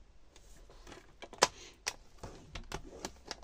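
Scrapbooking paper is scored and folded on a board, heard as sparse close clicks, taps and soft rustles spaced irregularly, with one sharper snap in the middle and no talk.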